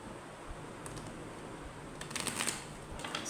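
A deck of oracle cards being shuffled by hand in a quiet room, soft riffling and papery flicks that build into a brisker burst near the end, with no voices.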